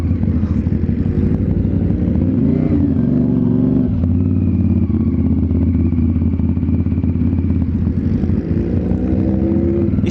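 A CF Moto 450 SRS motorcycle engine drones steadily and loudly while riding, with a continuous low hum and slight shifts in pitch as the revs change, and no talking.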